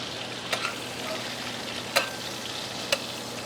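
Bacon gently sizzles and simmers in oil over low heat, a soft steady frying hiss with a few small pops and crackles.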